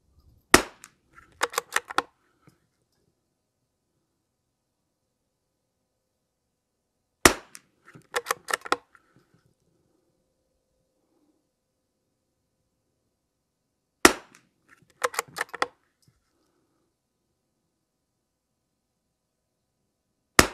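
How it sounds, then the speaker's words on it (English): Lapua Center X .22LR rounds fired in a five-round group at an outdoor range, sounding as sharp, distant cracks that come in small clusters separated by long silent pauses. "Last 5-round group, Lapua Center X."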